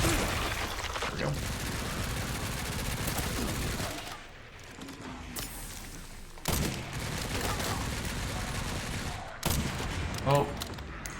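Gunfire in Resident Evil, with Leon firing in Raccoon City: sharp loud reports and bursts stand out over a dense, busy game soundscape with music and effects throughout.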